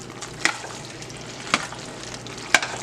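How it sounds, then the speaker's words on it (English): Shrimp fettuccine alfredo with added liquid is stirred in a pan: a low simmering hiss runs underneath as three sharp utensil scrapes and clinks fall about a second apart, close but fairly quiet, with no talking. "And then we're gonna mix this all up well."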